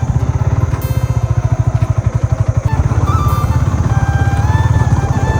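A Yamaha R15 V4 motorcycle engine thrums close by with a rapid, steady pulsing putter while riding, loud and continuous, with faint high whines over it.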